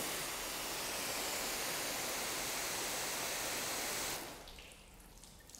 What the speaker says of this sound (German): Dann schauen wir uns das mal hier mit dem Wasserstrahl an.